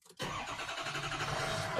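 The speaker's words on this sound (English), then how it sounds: "Then we're going to start the engine." A 2004 Ford Super Duty with a 6.0L diesel engine cranks briefly and catches, then settles into a loud, steady, rough diesel idle close by, with no talking.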